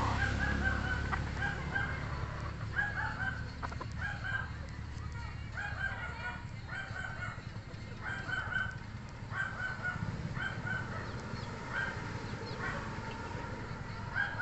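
Possum Sweater gamefowl roosters crow repeatedly in a breeding yard, several loud cock-a-doodle calls spaced a second or two apart, with clucking and a distant dog underneath.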